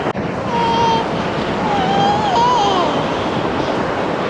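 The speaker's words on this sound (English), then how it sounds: "Kind of windy." Strong coastal wind at Myrtle Beach buffets the microphone in a continuous loud rush, with a faint whistling tone drifting through it.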